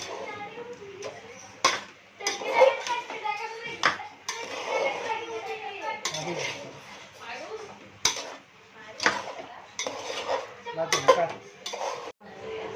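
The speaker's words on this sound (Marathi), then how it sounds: "आता ग्रीन चिली सॉस टाकतोय. तर आपण आता मिक्स करून घेऊया." A spoon scrapes and clinks against a pan as green chili sauce is stirred into rice, in repeated irregular metallic knocks and scrapes close by, with a voice talking in between.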